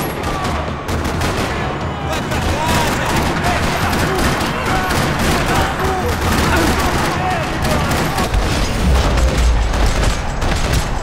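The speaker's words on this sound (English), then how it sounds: "Another parking lot rattling with gunfire." Sustained rattling gunfire in a parking-lot shootout in Max Payne 3, loud and continuous bursts with booms layered over it and no pause across the whole stretch.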